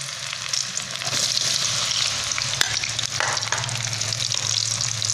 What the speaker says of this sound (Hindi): इस गर्म घी में हम इन फ्राइज़ को